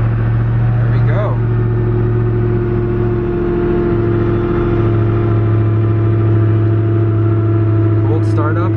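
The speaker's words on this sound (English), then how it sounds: "Cold startup on the Ager" Ager RS1 car engine after a cold start, a loud steady low drone with a strong idle hum that holds throughout, with a faint brief sound near the start and near the end.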